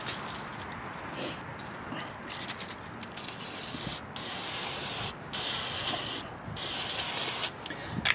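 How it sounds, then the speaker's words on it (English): Aerosol assembly lube is sprayed onto the valves and springs of a seized Kohler Courage engine from a Craftsman LT2000, in several close hissing bursts of about a second each, separated by short pauses. "I'm going to spray down the valves and springs with an assembly lube"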